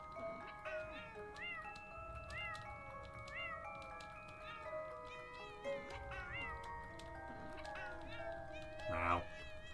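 A cat meows in the video game Impostor Factory, a series of short, bright meows spread across the moment over soft game music, with a voice talking alongside.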